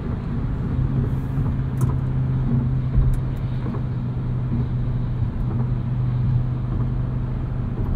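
A 2022 Audi RS 3 sports sedan cruises along the road, heard from inside as a steady low engine drone and road rumble, continuous and even with no voices.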